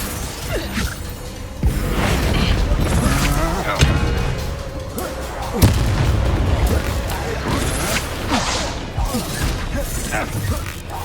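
A Confringo fire spell exploding in Hogwarts Legacy, heard as several loud booms and crackling whooshes amid continuous battle effects, with voices talking over the combat.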